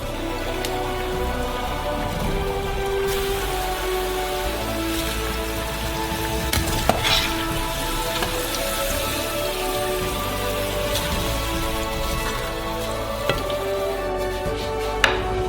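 Continuous bubbling sizzle of potatoes deep frying in oil at a Korean street food stall, steady and close, with a few faint clinks near the end and no voices.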